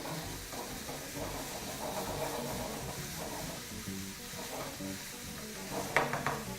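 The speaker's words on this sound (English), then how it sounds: "Let's give that a quick saute." Spices saute in a pan for a lamb kofta dinner, giving a steady soft sizzle with faint stirring scrapes throughout and a brief clatter near the end.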